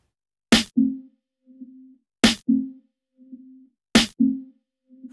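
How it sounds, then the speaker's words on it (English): Three evenly spaced snare hits convolved with a piano impulse response, each a sharp crack followed by a ringing, mid-range piano-like resonance that hums briefly and fades between strikes. "the snare drum sounds wrapped in the piano"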